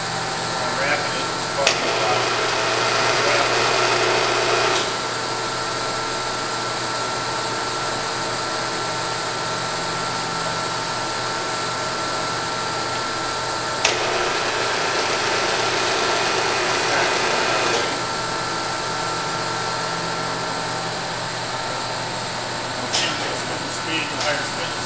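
Nardini AM 3280 lathe running with a steady machine hum, the saddle moving at rapid traverse in a couple of louder stretches lasting a few seconds each, with a brief sharp click at the start of each.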